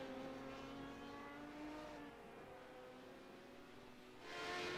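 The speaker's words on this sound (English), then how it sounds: "listening to that car scream down the straightaway" A sports car in a multi-class race screams down the straightaway, a faint, distant sustained engine whine holding steady, then a brief rise in intensity near the end.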